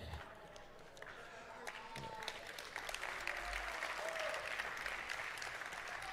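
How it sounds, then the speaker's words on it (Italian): Audience applause rising into a sustained wash of clapping with crowd noise, fairly faint and distant, with voices mixed in. "Sono contento di questo applauso"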